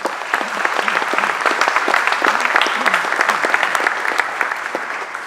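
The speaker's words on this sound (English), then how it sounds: "So let's give him a round of applause." An audience applauds steadily after an introduction to a presentation on the Bermuda Better Energy Plan, with dense, even clapping that holds at a constant level throughout.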